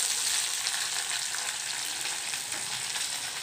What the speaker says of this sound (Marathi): असं परतून घ्यायचं तेलामध्ये.